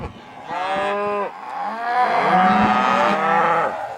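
Several cattle moo loudly and repeatedly during autumn weaning on a Nebraska ranch, long overlapping bellows close by with some outdoor background noise.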